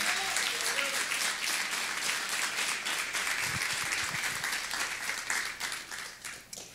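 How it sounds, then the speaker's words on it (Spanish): Church congregation applauding together during a sermon, dense sustained clapping that fills the room, fairly loud and steady before tapering slightly at the end, with a faint voice briefly underneath. "Fuerte ese aplauso al Señor."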